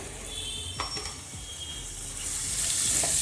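Potatoes tipped into a hot spiced tempering for an aloo methi sabzi, giving a steady hiss of frying with scraping stir strokes and a few clinks, the sizzle swelling louder toward the end.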